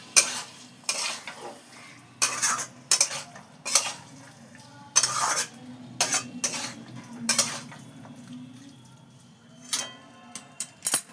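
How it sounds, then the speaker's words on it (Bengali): Small new potatoes are sautéed in a wok, with repeated sharp spatula scrapes and clanks against the metal over a low, steady sizzle, close and rhythmic. "ছোট ছোট নতুন আলু ছিল, ওগুলোকে আমি দিয়ে এবার এটাকে ভালো করে কষিয়ে দিই"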